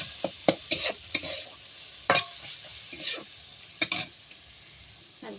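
A spoon scrapes and stirs turmeric, salt and Kashmiri chili powder frying in a pan for khichuri, giving a string of sharp, irregular scraping strokes over a soft, close sizzle.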